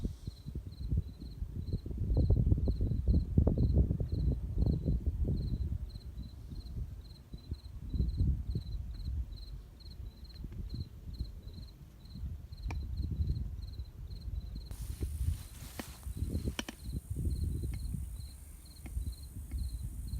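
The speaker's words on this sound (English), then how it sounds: "1:07 in the afternoon, and the crickets are sounding." Crickets chirp in a steady, even pulse during the afternoon darkness of the 2017 total solar eclipse, over a low, rumbling outdoor background with distant storms.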